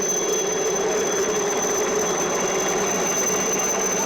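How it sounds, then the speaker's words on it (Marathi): A helicopter over the Lalbaugcha Raja immersion procession in Mumbai makes a steady, loud mechanical roar with a high whine, running continuously overhead with rotor and engine noise, with no talking. "याच सोहळ्याची पाहणी करण्याकरता हेलिकॉप्टरमधून सध्या ही पाहणी होते"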